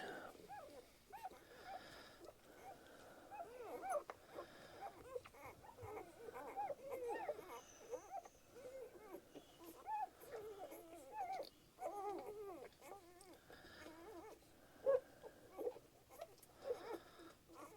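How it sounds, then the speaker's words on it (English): Faint, soft whimpering and small squeaky whines from several puppies, with quiet lapping and shuffling, continuing steadily at low volume. "Enjoy the sounds of the puppies just enjoying their meal."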